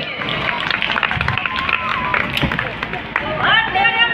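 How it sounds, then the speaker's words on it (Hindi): Crowd at a rally clapping and cheering to welcome a general secretary's arrival, steady close applause mixed with voices and chatter throughout. "सभी भाई अपने तालियों से गगन से उनका स्वागत करेंगे"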